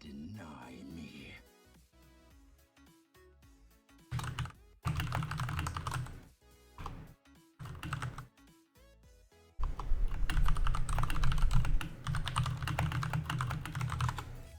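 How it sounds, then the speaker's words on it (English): Fast clattering keystrokes on a computer keyboard come close and loud in irregular bursts and pauses, with denser typing toward the end and faint voices beneath. "Sorry, I'm typing back and forth."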